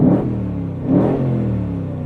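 A 2010 Hemi Challenger R/T V8 with its exhaust in normal mode revs twice, each blip a deep, throaty rumble rising and settling back to a loud idle, heard close up.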